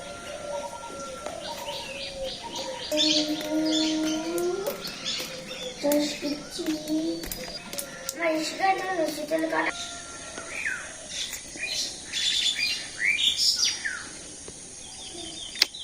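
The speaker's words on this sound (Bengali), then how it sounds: "কিচিরমিচির খালি পাখির শব্দ, অনেক ভালো লাগে সকালবেলাটা।" Morning birdsong in a Bangladeshi village, with several birds chirping, trilling and cooing nearby and fairly loud, alongside occasional quieter human voices.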